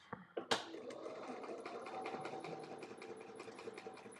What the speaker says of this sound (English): As I go to my sewing machine now, I am going to be sewing on two biases.